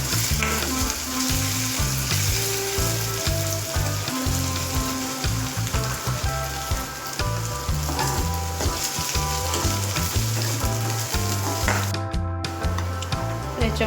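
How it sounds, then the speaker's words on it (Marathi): Chopped onion sizzles loudly in hot oil over a high flame for chana masala, a steady frying crackle broken by the rhythmic scrape of stirring. "कांदा आपल्याला चांगला फ्राय करून घ्यायचा"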